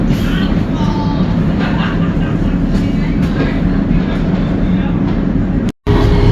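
A Rotterdam metro line C train runs steadily with a loud continuous rumble and rail noise throughout, briefly cutting out near the end, while a recorded station announcement plays over it.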